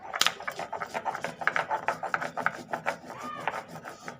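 Pennywort and mint leaves with green chillies are ground by hand into chutney, giving quick, close, rhythmic rubbing and rasping strokes at low volume.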